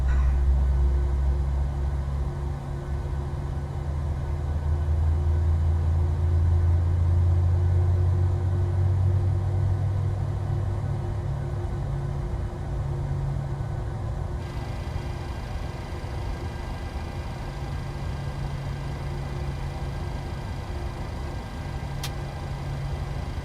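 Steady low rumble of a Boeing 737's two jet engines in Microsoft Flight Simulator, with a constant hum, sustained throughout without interruption.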